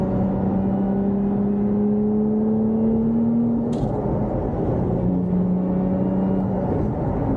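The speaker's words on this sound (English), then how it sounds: "I love the sound of the engine." Steady loud engine drone from inside a supercharged Lotus car, its pitch rising gradually with a faint supercharger whine layered on top, no voices.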